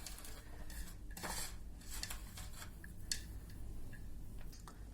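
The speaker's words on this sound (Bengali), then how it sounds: "ভালো করে মাখিয়ে নিচ্ছি আমরা।" Cabbage fritter batter being mixed by hand in a bowl, giving faint, irregular clinks and soft wet squelches with short pauses between strokes.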